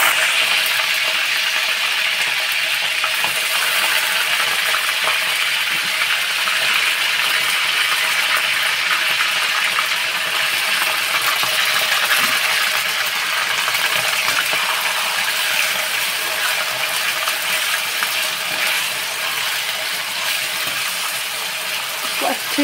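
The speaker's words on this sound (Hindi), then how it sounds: "आई थिंक ये तेल हमारा गर्म हो चुका है, अब हम इसमें ऐड करेंगे मटन" Mutton pieces frying in hot oil for Kashmiri kanti, a steady broadband sizzle that holds loud and even throughout with faint scraping and clinks underneath.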